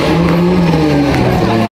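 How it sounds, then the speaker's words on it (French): A Lamborghini Murciélago V12, restored after being abandoned, runs loud and close with a rough, throbbing drone that rises slightly in pitch, then cuts off abruptly. "J'ai finalement réussi à faire démarrer le moteur de la Murciélago."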